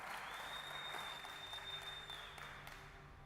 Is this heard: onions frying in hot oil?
no